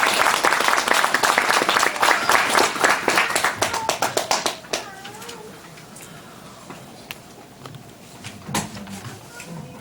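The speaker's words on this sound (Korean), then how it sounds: "다시 한번 큰 박수 부탁드립니다" Audience applause at the close of a Won Buddhist lecture on the Daejonggyeong in a hall, loud dense clapping that thins and fades into scattered claps and faint murmuring.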